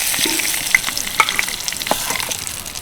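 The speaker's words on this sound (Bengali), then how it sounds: "একদম হালকা করে পনিরগুলো ভেজে নিলাম এবার এগুলোকেও তুলে নিচ্ছি" Paneer pieces lightly frying in oil and ghee in a kadai, a steady sizzle broken by small crackles and the occasional clink of a utensil against the pan.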